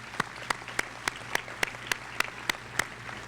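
Applause for students at a high school graduation ceremony in Orange Beach, heard as about ten sharp, evenly spaced claps, a small, thin clapping rather than a full crowd, fairly quiet.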